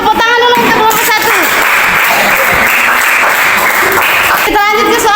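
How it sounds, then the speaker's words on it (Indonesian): A school class applauds a quiz team in a classroom, loud clapping in the middle flanked by voices speaking at the start and at the end. "Tepuk tangan dulu untuk kelompok 1."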